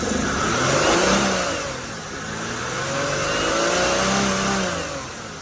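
A car engine revs up twice in slow swells, rising and falling in pitch against a steady hum, loud and close with no talking.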